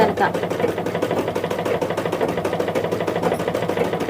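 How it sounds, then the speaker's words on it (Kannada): Sewing machine stitching a curved seam on scrap cloth at a tailoring class, a steady fast rhythmic whirring close by that runs without pause, with a voice talking over it. "ನೋಡಿ ಈಗ ಕರ್ವಿಂಗ್ ಹೊಲಿಗೆ ಹಾಕ್ತಾ ಇದ್ದೀನಿ"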